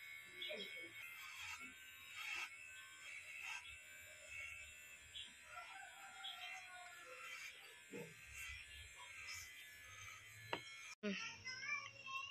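A Boxin cordless hair clipper hums steadily with a high-pitched electric buzz throughout, close up, with faint background sounds and a brief cut near the end.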